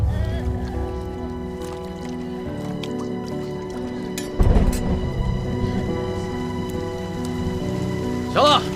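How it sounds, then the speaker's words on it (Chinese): Rain patters steadily on surfaces outdoors in a period drama scene, with a sustained musical score over it and a few louder splashes and thuds. "下雨了，准备撤了"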